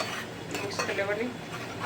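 Pav bhaji mixture stirred in a metal pan, a spoon scraping and clinking against the pan in quick close strokes over a steady cooking hiss, with a voice talking faintly underneath.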